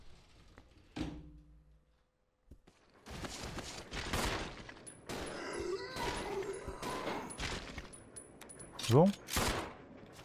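Gunfire from the Resident Evil 0 video game, a burst of sharp shots with mechanical clatter amid game sounds, with someone talking briefly over it.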